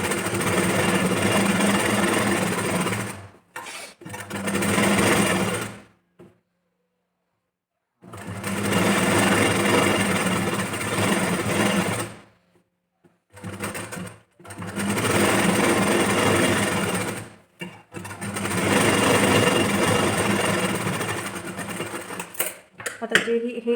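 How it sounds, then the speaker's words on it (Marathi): A sewing machine stitches a seam on a back-open princess-cut blouse. It runs in four long, loud bursts of rapid stitching separated by silent pauses and brief stop-start clicks. "आता जे आतल्या बाजूने यायचं आणि पूर्ण याच्यावरती आपल्याला स्टिच करून घ्यायची"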